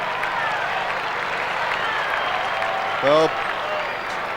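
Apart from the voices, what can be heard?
football crowd applause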